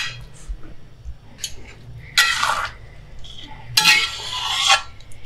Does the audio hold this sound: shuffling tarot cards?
no